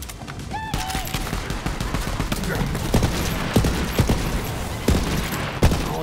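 Gunfire in Borderlands 3: steady rapid bursts of shots crackle and pop over dense game noise, loud and continuous, with sharp impacts scattered throughout.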